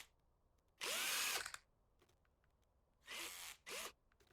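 A power tool in the Car Dealer Simulator game buzzes out radiator screws in short bursts: one long whir, then two quicker ones, each standing out clearly against quiet background with no talking.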